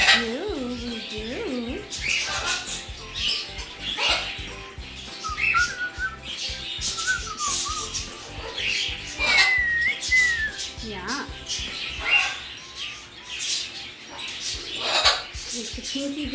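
A Moluccan cockatoo whistles, squawks and chirps in an indoor morning setting, with repeated bird calls scattered through the clip while a person talks softly to it throughout.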